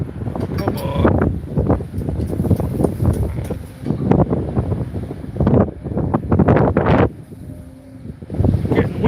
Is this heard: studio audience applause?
no